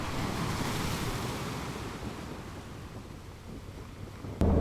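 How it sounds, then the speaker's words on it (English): Ocean waves roll in along the coast at Streaky Bay, South Australia, a steady, broad wash of surf mixed with wind buffeting the microphone. "check out some of the waves in the area"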